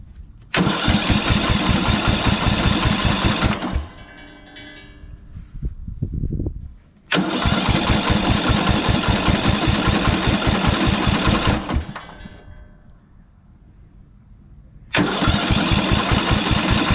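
A Briggs and Stratton engine on a cheap ride-on mower cranks in three long, loud, rapid chugging bursts of the starter motor, separated by short pauses and sputtering attempts to catch.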